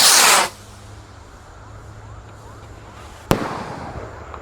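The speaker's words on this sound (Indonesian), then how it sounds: "Roket siap meluncur." A firework rocket launches at a New Year celebration with a loud hissing whoosh at the start, followed by quiet open-air ambience and a single sharp pop near the end.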